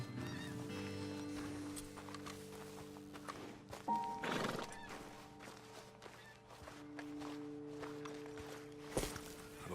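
Horses in Red Dead Redemption 2 shifting and clip-clopping nearby at a roadside ledge, with a neigh rising midway and scattered hoof steps and snorts at moderate volume.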